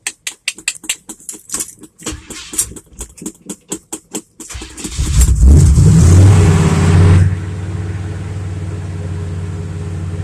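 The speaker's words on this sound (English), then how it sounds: "Sorry it's so loud, but when it's cold like this, it takes a while for this truck to warm up" Rapid clicking as a starter cranks, then a cold 1978 Chevy C10 Stepside pickup engine catches and roars loudly before settling into a rough, steady idle.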